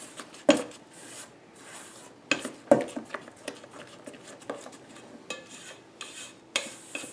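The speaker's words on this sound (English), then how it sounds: "I don't use a mixer for this. I just use the spatula. Get it all mixed in well." Wet apple cake batter for a French apple cake being worked by hand with a spatula, giving soft, irregular scraping and sloshing strokes with a few sharper knocks against the bowl, close and fairly quiet.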